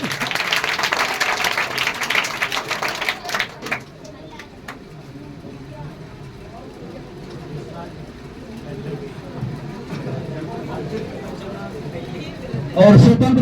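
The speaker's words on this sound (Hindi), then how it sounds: "जोरदार ताली लगाएंगे" Audience applause at a school award ceremony honouring a class 10 district topper, a loud burst of clapping for the first few seconds that thins to scattered claps and murmuring room noise, with a final loud thump near the end.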